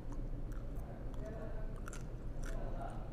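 Crispy pork bagnet served with eggplant is bitten and chewed close up, producing crunchy chewing sounds layered over background chatter.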